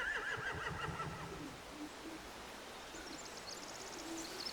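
Horse neighing in The Walking Dead: The Final Season video game, a shrill whinny at the start that fades into a quieter ambient bed, with a faint tonal call recurring later.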